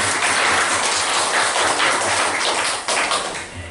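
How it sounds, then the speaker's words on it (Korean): A church congregation claps together during a Sunday worship service, a loud, dense, steady roar of hands that fills the room and then begins to thin toward the end. "우리 주님께 우리 영광의 박수 한번 올려드리겠습니다"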